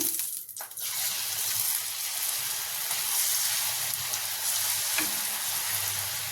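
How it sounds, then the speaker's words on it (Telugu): Ribbon pakodi dough frying in hot oil gives a steady, close crackling sizzle throughout, with a brief lull near the start and a faint clink around the five-second mark; no one speaks. "ఇలా వేసుకొని దీన్ని కూడా ఫ్రై చేసుకుందాం"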